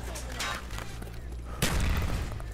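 A grenade explosion in Call of Duty: Black Ops multiplayer bursts out partway through, a deep thud with a crackling tail, following sharper gunfire-like pops over a noisy game soundscape.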